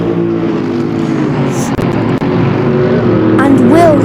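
BMW GT3 race cars roar at Monza in a sustained engine drone that rises into a higher whine near the end, with a commentator talking over the racing.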